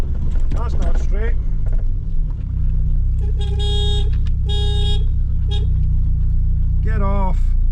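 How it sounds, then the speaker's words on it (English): A Vauxhall Nova 1.6i engine rumbles steadily at close range while driving round the block, with a voice talking over it and short tonal beeps or toots rising above the engine noise. "taking the Nova a quick spin round the block"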